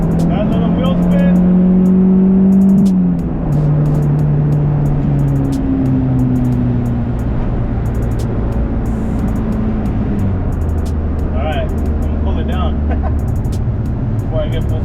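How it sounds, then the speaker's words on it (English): A car pulls away hard with a little wheel spin after a new PLM motor mount kit install, its engine note climbing in strong rising harmonics through gear changes, loud and close throughout. "Got a little wheel spin."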